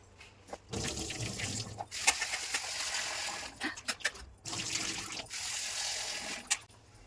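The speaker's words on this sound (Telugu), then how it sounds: "ఇదిగోండి ఇలా శుభ్రంగా కడిగేసుకోండి. ఒకసారి నీళ్ళు వంపేసి 2 సార్లు కడిగేసుకుంటే శుభ్రం అయిపోతాయి." Ingredients are rinsed by hand in water, with close splashing and sloshing in irregular bursts separated by brief pauses, no talking.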